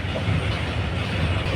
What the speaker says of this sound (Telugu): ఒకసారి ఆగి ట్రైన్ చూడండి